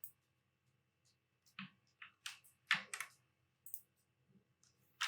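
Scattered computer keyboard key presses while working in Adobe Photoshop 2023, sharp isolated clicks in irregular bursts of one to three, close and fairly quiet against a silent background.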